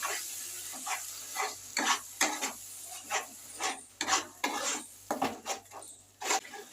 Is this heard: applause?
no